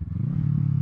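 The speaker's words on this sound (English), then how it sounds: "It is the jerkiest motorcycle I have ever ridden in first gear." A Kawasaki Z650 motorcycle in first gear with a jerky on-off throttle gives a brief, steady, close engine drone with a low rumble. No one speaks.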